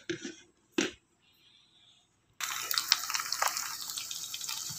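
Fermented fish (pekasam) is handled with a few faint knocks and drips, then a tap opens and water runs steadily and fairly close for the final couple of seconds of rinsing.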